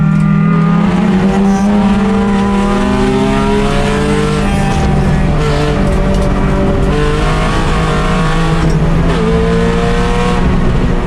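A $500 race car laps a track during a 24-hour endurance race. The engine is loud and close, revving hard, with rising and falling gear-shift sweeps and brief tire noise, and no talk.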